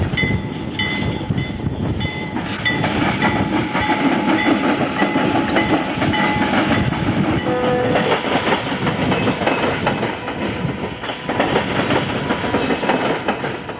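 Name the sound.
Union Pacific C36-7 diesel locomotive hauling RoadRailers across diamond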